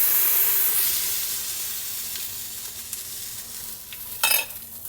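Oil and tomato paste sizzle in a hot soup pot, a steady frying hiss that starts loud and slowly fades, with a short burst of stirring or spattering near the end.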